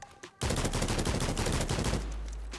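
Rapid automatic gunfire from a Scar rifle in the video game Criminality, a sustained loud close burst of shots lasting about a second and a half, trailing into a low rumble.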